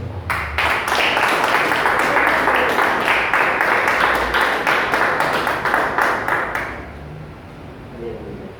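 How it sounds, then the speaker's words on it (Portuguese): Church congregation clapping in worship, a dense steady run of rhythmic claps for about seven seconds, fairly loud and close, then fading out into room murmur. "também aplaudimos ao Senhor"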